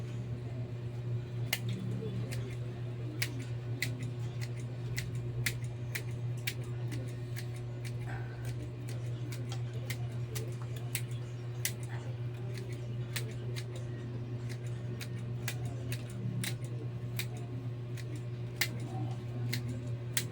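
Scissors trim a plant in steady, sharp little snips that repeat at a quick, even pace over a low, constant hum, quiet and close, with no talking.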